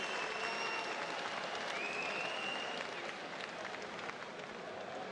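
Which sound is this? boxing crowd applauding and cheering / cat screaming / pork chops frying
boxing crowd applauding and cheering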